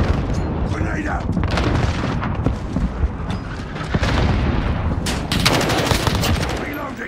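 A grenade bursts amid sustained automatic gunfire in a Call of Duty: Modern Warfare multiplayer match with the Kilo rifle, the dense, loud rattle of shots and booming blasts running throughout alongside a brief voice callout.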